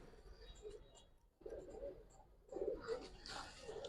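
Giribaz and colouring pigeons coo in low, repeated bursts from close by, with a short pause partway through and a rising, busier stretch toward the end.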